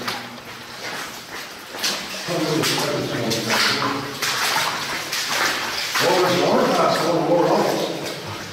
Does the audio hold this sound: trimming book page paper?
no